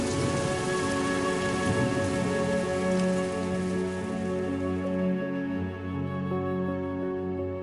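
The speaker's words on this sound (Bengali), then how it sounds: "এরকম বৃষ্টিতে শুধু অভাব ছিল 2 কাপ চা আর পকোড়ার।" Steady rain falls near Fanchaytar, outside Darjeeling, a dense continuous hiss of drops on surfaces. It stays loud and even throughout, with nobody talking.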